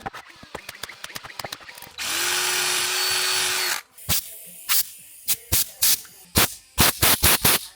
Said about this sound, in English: I just drilled 2 holes for this staggered